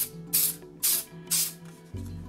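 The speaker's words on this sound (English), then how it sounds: "I want to spray a little silicone mold release" Silicone mold release is sprayed from an aerosol can in three short, bright hissing bursts at a steady rhythm, close to the microphone in a quiet room.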